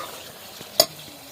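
Village-style chicken curry cooking in a pot on a wood-fired stove being stirred, a soft bubbling sizzle with one sharp scrape or clink of the spoon partway through.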